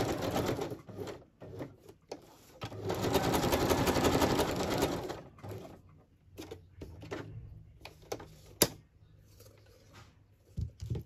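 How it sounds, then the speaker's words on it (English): A sewing machine straight-stitches and zigzags around painted mixed media paper tags. A steady whirring run of stitching lasts a few seconds, then stops and gives way to quieter handling noises and an occasional sharp click. "I'm going to straight stitch around the outside and zigzag around the roof at least."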